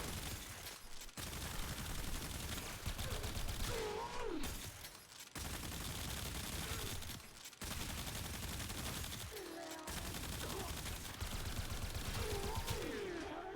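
Held-trigger gunfire in a video game roars as a dense, continuous fusillade, loud and unbroken for long stretches with only brief gaps, while charged electric and cold effects whine over the shots.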